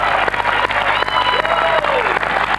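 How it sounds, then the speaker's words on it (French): Studio audience on a French television game show applauding and cheering loudly, a dense continuous wash of clapping with crowd voices mixed in throughout. "on les applaudit très fort"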